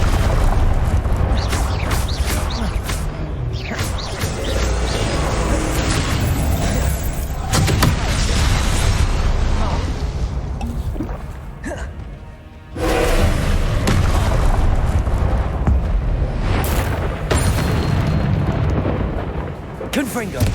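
Confringo spell blasts in the wizarding game Hogwarts Legacy, repeated heavy booming impacts and crackling bursts during combat, loud and near, with a person talking over them throughout.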